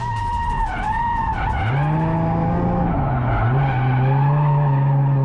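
A drift car at full steering lock on track, tires squealing and skidding continuously with a steady tonal howl that shifts pitch, loud and close alongside engine noise.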